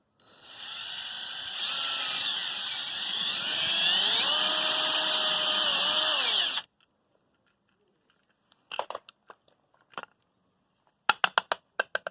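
Power drill boring a hole in a plastic dishwasher spray arm part for a Frigidaire unit, a loud steady whine with rising pitch lasting about six seconds, then stopping, followed by a few brief clicks and handling knocks.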